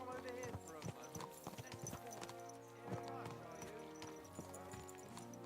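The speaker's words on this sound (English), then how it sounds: "Let's really spur these horses on, eh?" Horse hooves clip-clopping at a brisk pace in the Kingdom Come Deliverance II video game, rhythmic and fairly close, with tonal background music and a faint whinny.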